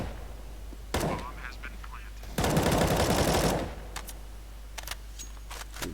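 Automatic gunfire in a CS:GO 5v5 LAN tournament match, with a short burst of shots early, then a longer, louder sustained volley of fire and scattered single shots afterward, heard under commentator talk.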